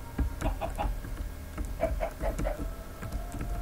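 A chicken in Minecraft clucks in short repeated bursts over a steady low background hum, fairly faint.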